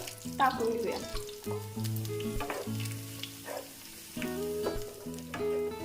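Grated coconut roasts in a pan with cumin and curry leaves for a traditional Bhogi vegetable dish, a soft, steady sizzle with stirring under prominent tonal sounds.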